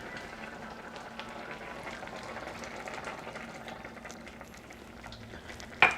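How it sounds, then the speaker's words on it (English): A pot of pear and cherry filling thickened with cornstarch bubbles and simmers steadily while being stirred, a soft continuous burble with faint scraping throughout and a brief louder clink near the end. "And I'm just going to stir until it thickens up."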